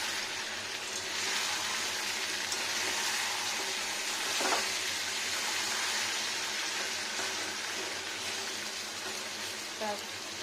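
Chicken kosha frying in a pan, a steady close sizzle with one soft scrape near the middle as the pieces are turned over; faint voice in the background.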